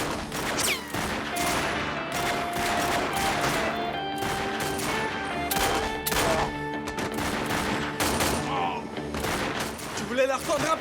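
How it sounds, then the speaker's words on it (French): Gunfire in an animated action episode, with rapid bursts of shots and fusillades crackling almost continuously, loud and close, while voices shout over the shooting. "Allez, tirez, les gars! Tire! Tire!"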